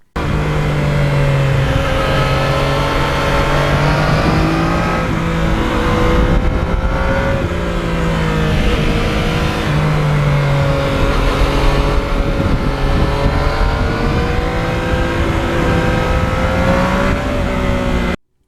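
A Yamaha MT-09 three-cylinder motorcycle engine revs steadily and loudly for the whole stretch, its pitch rising and falling in smooth waves with a throaty, layered drone.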